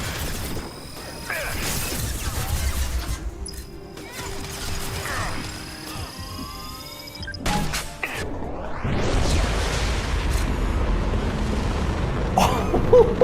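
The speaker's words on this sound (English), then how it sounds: "The explosion on that is insane!" A charged weapon detonates in Mass Effect 2, a loud crashing blast with metallic whines and rumbling debris spread across a busy combat soundscape, with no voice audible.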